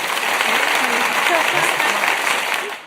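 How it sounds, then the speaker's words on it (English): A round of applause during a podcast recording: continuous, loud, closely miked clapping that fills the whole stretch, with voices talking and cheering over it before it fades slightly at the end. "Round of applause for getting into Stockton."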